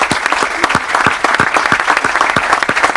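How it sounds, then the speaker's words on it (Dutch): Loud, close applause from a gathering at a Dutch ceremony naming Bakkerij Maassen in Wanroij a royal purveyor, dense and continuous with sharp individual claps standing out throughout. "Applaus."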